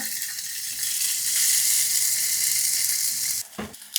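Two slices of Spam sizzle in hot oil in a pan, a steady close hiss of frying that holds for several seconds before a brief clatter and a drop in sound near the end.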